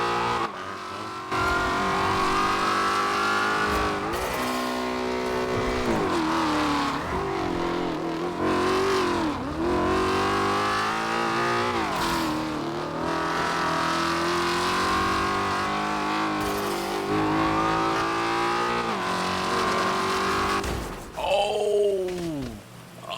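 A Ford Mustang engine revs and roars loudly in GTA roleplay, pitch rising and falling through repeated accelerations with tire squeal, ending in a short final burst.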